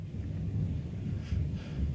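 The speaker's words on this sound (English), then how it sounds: "Pretty crazy storm" Heavy thunderstorm rumbling outside during a flooding downpour, a continuous low roar with gusty swells, steady and fairly loud with no talking.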